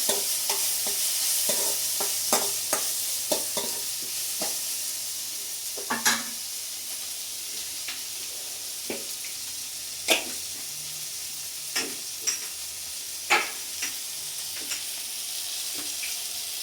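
A spoon stirs and scrapes through curry frying in a pan with added chili powder, making irregular clinks and scrapes over a steady soft sizzle.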